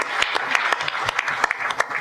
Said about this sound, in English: Msall from the Civic Federation, give him a round of applause.